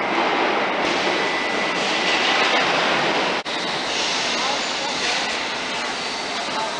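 Thameslink Class 319 electric train departing Farringdon station, a steady broad rushing roar of the moving train held loud and close throughout, with one brief dip midway and no talk over it.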